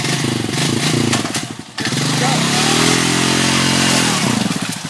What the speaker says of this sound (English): Give it some throttle, Greg.